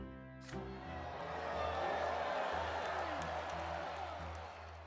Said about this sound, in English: You hear cries of joy, a hum of approval, and applause.